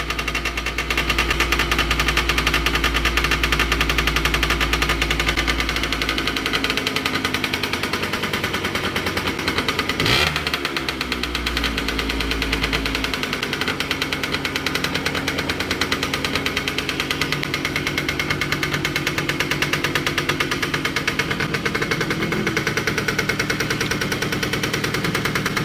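A 1976 Yamaha Chappy two-stroke motorcycle engine runs steadily and loudly after a kick start, a continuous buzzing idle with a brief throttle change midway, no talking over it.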